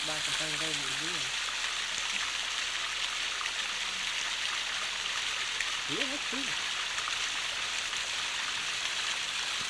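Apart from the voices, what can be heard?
waterfall and flowing stream water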